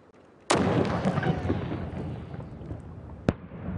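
A rocket-propelled grenade fired by Marines on a range: one sudden loud blast followed by a long rumbling roar, then a second sharp bang in the distance as it lands.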